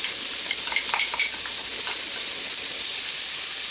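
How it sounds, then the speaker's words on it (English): Onions frying in a pan alongside pork chops, a loud, steady sizzle and hiss with a few brief stirring clinks, no talking. "I'm going to put the onions in here, and we're going to let them"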